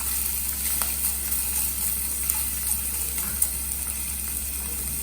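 Chopped ginger and green chillies sauté in a pan with a steady soft sizzling hiss and a few faint clicks from stirring, close and continuous with no talking.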